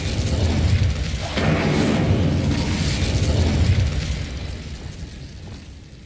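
Incendio fire spell cast in the video game Hogwarts Legacy, a loud whooshing, roaring burst of flame that swells and holds, then gradually fades out.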